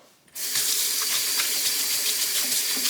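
Hands washed under a running kitchen tap before cooking, a steady close hiss of gushing water that starts abruptly after a brief quiet moment and continues without pause.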